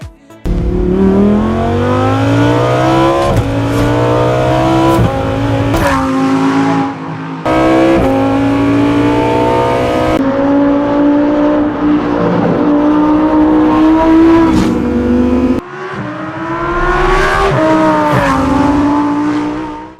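Lamborghini Huracan engine sound in the Need for Speed racing game, a loud continuous high-revving roar with repeated rising gear sweeps and brief shift breaks, alone with no talk.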